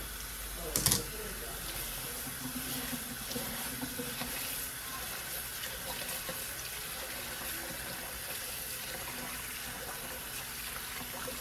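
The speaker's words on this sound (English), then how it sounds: "We're gonna wash it in cold water." Cold tap water runs steadily into a kitchen sink while food is washed, a continuous faint splashing hiss after a brief clatter near the start, with no talking.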